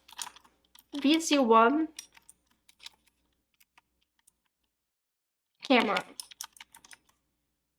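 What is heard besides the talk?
typing on a computer keyboard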